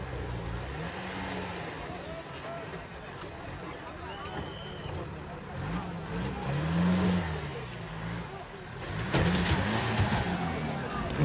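A 4x4 off-road vehicle revs on a steep dirt track in the Sahyadri hills, its engine rising and falling in several surges over a constant outdoor roar with background voices.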